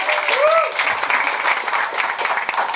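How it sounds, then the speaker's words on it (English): At an LS5 Health & Wealth Solutions anniversary and birthday event, the audience claps for a guest named Jennifer, a dense, loud burst of applause close by, with a brief whistle-like tone near the start and some voices mixed in. "Round of applause to Jennifer."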